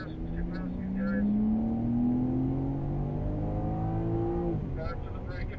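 A BMW race car accelerates hard around the COTA circuit, its engine note climbing steadily in pitch for several seconds before easing off near the end, loud and close throughout.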